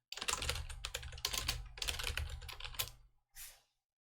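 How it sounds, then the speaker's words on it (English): Rapid close-up typing on a computer keyboard, bursts of crisp key clicks with short pauses, ending with a final isolated keystroke, quiet and alone. "And then you can also type a message."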